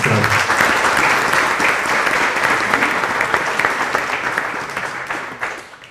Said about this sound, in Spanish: Recibámonos también con un aplauso